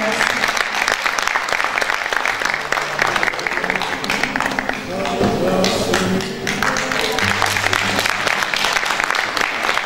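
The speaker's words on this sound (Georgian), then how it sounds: "თქვენი აპლოდისმენტებით მივესალმოთ ქალბატონ მანანას" A seated audience at a poetry book presentation in Akhmeta, Georgia, gives loud, dense, sustained applause to welcome guest poet Manana Samkurashvili. The clapping holds steady for the whole stretch.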